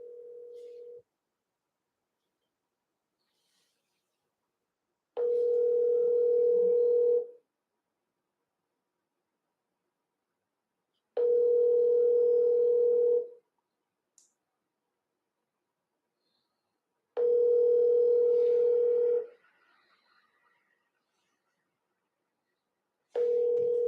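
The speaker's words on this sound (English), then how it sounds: "Well, come on now, answer the phone." Ringback tone on an unanswered scam call, a steady two-second buzz repeating roughly every six seconds in four clear bursts separated by silence, with no one picking up.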